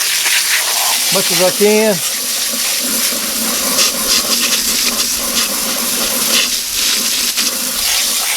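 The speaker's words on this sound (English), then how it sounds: "I also like to rinse out the inside of the carcass" Water gushing steadily from a hose or tap as a deer carcass is rinsed out, a loud continuous splashing rush that runs the whole way, with someone speaking briefly over it.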